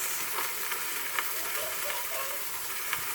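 Meat searing in a hot pan, a continuous bright sizzle and crackle with small pops, moderately quiet and steady, no voices.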